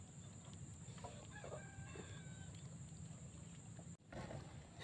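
A red rooster crowing outdoors, faint and distant, over steady background hum, with a few short calls and no nearby voices.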